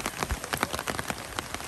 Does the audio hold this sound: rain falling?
yes